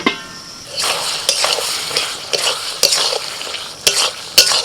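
Chicken keema with potatoes and spices being stir-fried in a pan: a steady sizzle broken by repeated scraping strokes of a spatula against the pan, close and loud.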